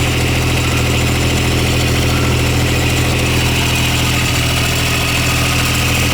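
A John Deere 430 lawn tractor engine idles steadily and loudly up close, kept running by a solenoid held open by hand, with a constant low rumble and vibration throughout.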